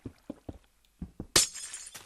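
Glass block shattering in the Minecraft video game: a sharp, bright crash following several soft, evenly spaced thuds of blocks being hit, with a second faint crash at the end; no voices.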